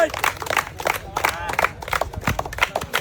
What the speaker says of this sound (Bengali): ভাইয়ের জন্য সবাই একটা জোরে তালি হবে।